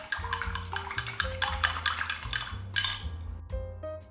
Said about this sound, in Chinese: 简单的搅拌一下